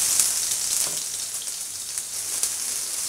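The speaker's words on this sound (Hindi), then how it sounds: "यहाँ पर मैंने पैन में 2 से 3 टेबल स्पून तेल को गर्म किया है। इसके अंदर डाल देंगे प्याज।" Onion hits hot oil in a pan and sizzles loudly and steadily, a continuous bright crackle with small pops.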